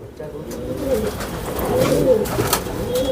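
Imported racing pigeons coo in soft, rolling repeated calls close by, with faint voices and handling noise around them.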